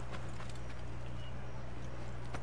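Horse hooves clip-clop steadily in Assassin's Creed Origins, a faint, even rhythm of soft beats over a low steady hum, with no voices.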